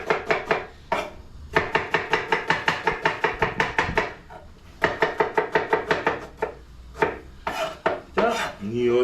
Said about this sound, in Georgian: მანამდე დავჭრათ ხახვი, ნიორი